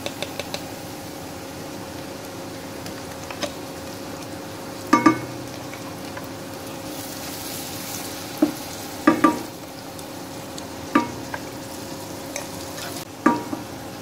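A steady sizzle of green chili and garlic paste frying in a pan, with occasional scrapes and clinks of a spatula stirring against the metal.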